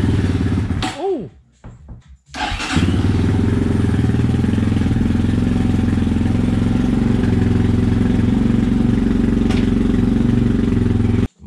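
A freshly assembled GR2 250 Optimum motorcycle engine starts up after a few sputtering cranks, then settles into a steady, loud, close idle that runs on without a break; there is no speech over it.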